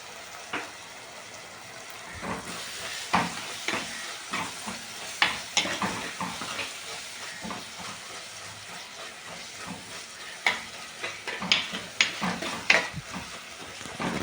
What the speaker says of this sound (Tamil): தக்காளி எல்லாம் இந்த அளவு நல்லா வதங்கணும்.